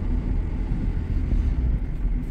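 A Honda Civic engine with a rod knock while driving, a steady low rumble of road and engine noise throughout with no distinct knocking beats standing out.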